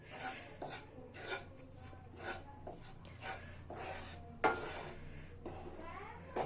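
Panjiri flour is stirred and roasted over a low flame in a pan, the spoon scraping and rubbing in soft, irregular strokes with small clinks against the metal, close up and quiet.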